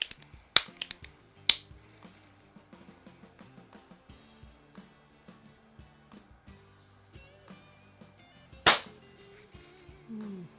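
A 1946 Benjamin 137 vintage air rifle fires in a competition, giving sharp snapping cracks near the start and a louder crack late, amid faint clicks and handling sounds with no talk.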